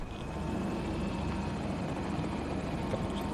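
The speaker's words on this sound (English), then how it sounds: "A few choppers up here now." Helicopters fly overhead in the Battlefield 2042 shooter game, a steady, loud rotor and engine drone that holds without break and has no talk over it.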